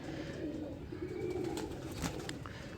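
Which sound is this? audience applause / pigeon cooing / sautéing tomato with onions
pigeon cooing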